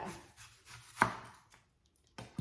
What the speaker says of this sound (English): So I'm gonna get this onion sliced up